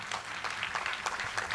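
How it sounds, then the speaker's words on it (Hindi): Audience applause at an All India Mushaira poetry gathering in Ahmednagar, a steady wash of clapping from a crowd that stays fairly even and moderately loud through its short run, with no talk over it. "एक मर्तबा ज़ोरदार तालियां बजा दीजिए"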